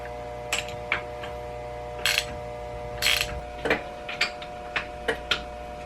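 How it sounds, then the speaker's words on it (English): Spark plugs being threaded into a cafe racer motorcycle engine give a series of sharp metallic ratcheting clicks and ticks, in short irregular bursts close to the microphone over a steady background hum. "So let's put the plugs in, shall we?"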